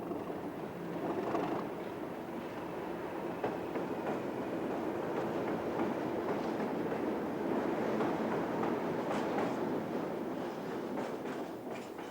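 A freight train hauled by two Class 37 diesel locomotives rolls steadily past, a continuous low engine rumble with faint rhythmic wheel clatter and metallic squeals over station points.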